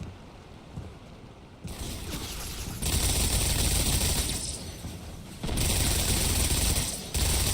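Dense automatic gunfire in a first-person shooter video game rattles in several sustained bursts, separated by brief lulls, loud and continuous with no talk.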